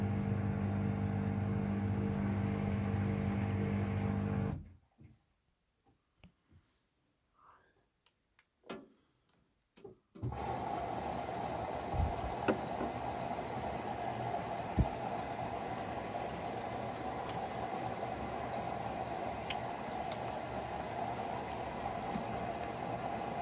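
A Samsung washing machine runs a Baby Care 60 cycle with extra rinse on a 13.5 tog duvet: a steady whooshing, churning noise drops to near-silence with faint clicks for several seconds, then resumes at full level.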